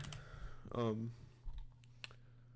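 Computer keyboard keys clicked during a programming session, a short burst of light, close typing taps mixed with a voice and faint background hum.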